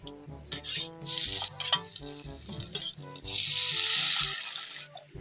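Garlic sautéing in oil in a hot pot, a steady close sizzle that swells louder midway, with clinks and stirring under strong music-like tonal sounds throughout.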